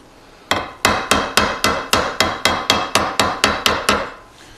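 Hammer blows on metal while putting a crease into the base of a stationary engine: about thirteen sharp, evenly spaced ringing strikes in quick succession, loud and close with nothing else heard.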